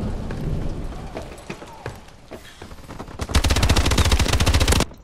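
Rapid automatic fire from the XMG heavy weapon in a first-person shooter game, a few scattered shots and mechanical clicks giving way to a loud, sustained burst of fast, evenly spaced shots for the final seconds.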